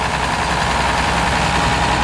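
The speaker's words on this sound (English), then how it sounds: "1959 International Harvester 660 diesel." A 1959 International Harvester 660 diesel tractor runs at a steady idle during a tractor parade, a continuous low rumble with no break, close and fairly loud.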